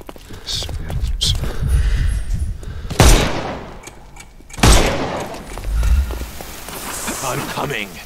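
Gunfire in the Sherlock Holmes: Chapter One video game: two sharp, loud bangs a couple of seconds apart that stand out over a busy, rumbling game background.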